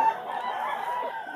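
A chicken clucks briefly at close range at a pet market in Bulacan, with a short, even stretch of clucking and no talking.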